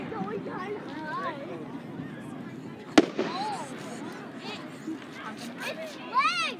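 Fireworks burst high overhead, a sharp loud bang standing out midway while whistling rockets and distant crackles carry on, and people chatter and exclaim throughout.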